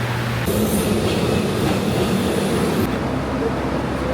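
A Rio de Janeiro metro train built by a Shanghai company rumbles steadily through a busy interchange station, with a constant loud wash of rail noise and faint crowd sound throughout.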